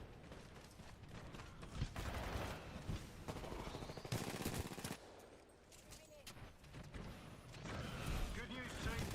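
Rapid gunfire and mechanical weapon clatter in the sci-fi shooter Titanfall 2 during a Frontier Defense match, with dense bursts and explosions over a steady game soundtrack, a voice talking intermittently.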